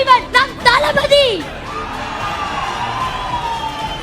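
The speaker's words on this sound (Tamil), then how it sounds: "அரங்கம் நிறைந்த கைத்தட்டல்" Crowd at a rally in a packed hall cheering and shouting, with high children's whoops up front that settle into a sustained roar of noise and babble.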